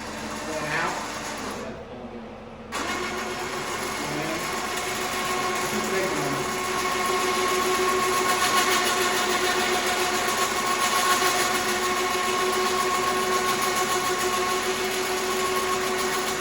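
Winch mounted on an ATV running as it pays out cable, a steady loud mechanical whine and drone that holds for most of the stretch after a brief gap near the start.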